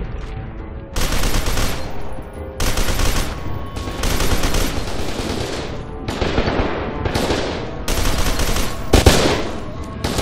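Loud, close sniper and automatic gunfire in the shooter F.E.A.R. 2, dense bursts in several long volleys separated by brief gaps.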